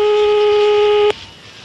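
A steady telephone ringback tone holds loud and continuous for about a second, then cuts off abruptly and leaves quiet line noise.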